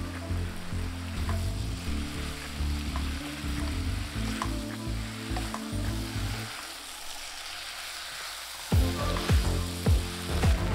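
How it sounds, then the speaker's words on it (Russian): Wood ear mushrooms fry in a hot pan with a steady, close sizzle while a utensil stirs and scrapes through them, then a few sharper knocks and scrapes against the pan toward the end. "Хорошо перемешиваем и жарим так еще 2 минуты"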